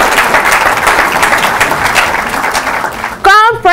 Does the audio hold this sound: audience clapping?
yes